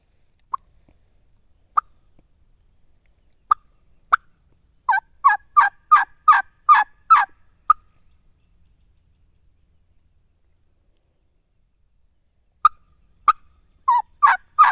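A wild Osceola turkey gobbles in the open, sharp single calls at first then rapid rattling bursts, repeated after a pause, distinct against quiet surroundings with faint insects.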